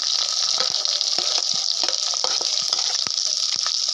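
Garlic, green chilli and shallots fry in a pan with a steady, close, bright sizzle, broken by small pops and the odd scrape of stirring, and no voices.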